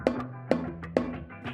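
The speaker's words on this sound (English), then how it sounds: "So without it, it just sounds like this." Snare drum with its snare wires switched off, struck three times about half a second apart, each hit giving a hollow, ringing, tom-like thud with no rattle, close and alone.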